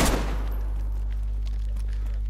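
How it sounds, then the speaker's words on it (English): Gunfire in the video game DayZ opens with a sharp burst of shots that quickly fades, leaving a low steady hum underneath. "Oh, someone just shot me. Oh, I'm being shot."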